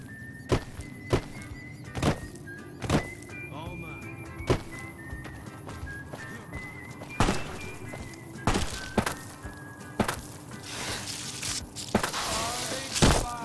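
Heavy footsteps tread along in a post-apocalyptic role-playing game, a steady series of dull thumps at an even walking pace over faint ambient music and background noise.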